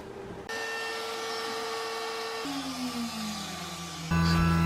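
A Shapeoko XL CNC router with a 1-inch surfacing bit planing a spoilboard, its spindle a steady loud whine that steps down in pitch and then jumps louder near the end, with no talking.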